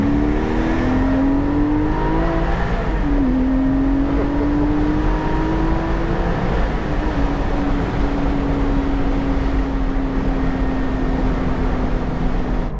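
A Porsche 718 Spyder fitted with an aftermarket exhaust drones loudly and steadily up close, its engine note rising, dipping briefly, then climbing again through sustained revs with no talking.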